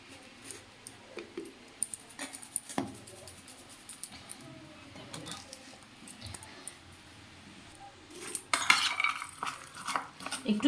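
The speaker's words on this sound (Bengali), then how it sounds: "এখন একটুখানি এই কাঁচা ছোলা মাখছি" Raw chickpeas tossed by hand in a bowl with fried puffed snacks and chopped raw onion, giving soft intermittent rustles and light scrapes, with a louder, busier clatter of mixing near the end.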